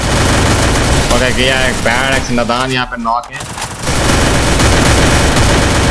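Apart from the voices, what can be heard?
gunfire in a video game battle royale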